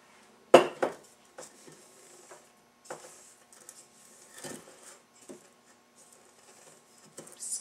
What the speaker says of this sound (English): So I'll unlock the bowl.